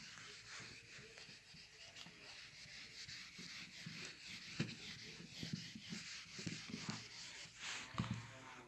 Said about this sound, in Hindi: इसको रब कर लेंगे पहले